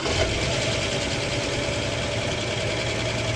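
A 1958 Oldsmobile barn-find engine idles steadily just after its first startup, with a continuous rough mechanical rumble and exhaust drone held at an even level throughout.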